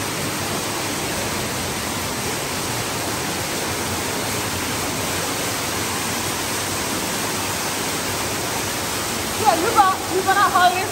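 Steady rushing water flows through an underground cave in Barbados, a dense continuous roar that fills the space at constant loudness, with a few brief voices and splashes near the end.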